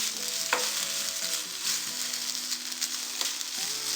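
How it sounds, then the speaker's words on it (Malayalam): Onion with garlic and ginger paste sautés in a pan over low flame, giving a soft, even sizzle with faint stirring, quiet and continuous. "അതൊന്ന് മാറുന്നത് വരെ നമുക്ക് വഴറ്റി കൊടുക്കാം."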